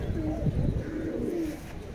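Rampuri pigeons in a loft give low, continuous cooing and murmuring, fairly close and steady throughout.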